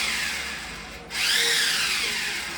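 A power drill runs while drilling into a wall in a baby girl's room at a home in Britain. A steady whirring motor hum pauses briefly, then restarts louder with a shifting pitch.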